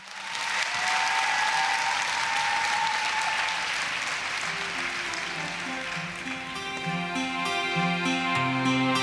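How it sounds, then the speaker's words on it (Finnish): A crowd at the opening ceremony of a 2013 dance show claps steadily in sustained applause, loud and continuous, while music begins to rise underneath toward the end. "No annetaan nyt vielä kerran aplodit kaikille."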